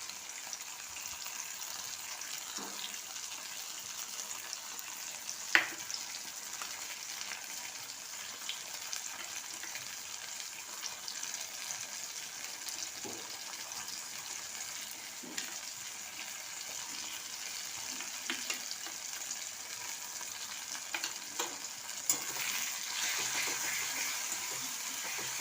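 Masala fries with softened tomatoes in a pan for a parshe fish curry, making a continuous low hiss of sizzling with occasional sharp clicks and scrapes, heard alone.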